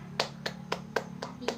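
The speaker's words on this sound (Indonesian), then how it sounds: "Tepuk tangan untuk anak-anakku semua." Six evenly spaced claps in a primary school classroom, crisp and fairly close, forming a short rhythmic round of applause over a low steady background hum.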